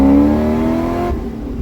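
Supercharged C6 Corvette engine revving in a short hit, a loud close steady roar with strong harmonics that drops off abruptly near the end and settles into a lower idle rumble.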